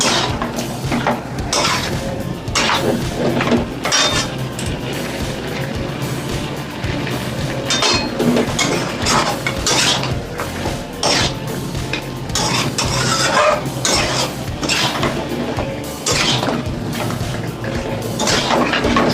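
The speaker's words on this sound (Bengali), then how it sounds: "আমি এবার চিকেনগুলোকে দিয়ে দেবো চিকেনগুলোর সঙ্গে মশলাটাকে কষিয়ে নেবো" Chicken pieces go into a pan with spices for a Bengali chicken curry, sizzling and frying steadily throughout, with a utensil clinking and scraping against the pan, loud and close.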